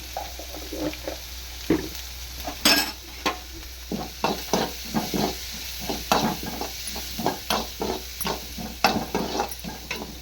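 Turmeric goes into a pan of sautéing ingredients during dosa preparation, and the contents are stirred in a steady series of scraping strokes over a soft continuous sizzle, fairly close and alone without talk.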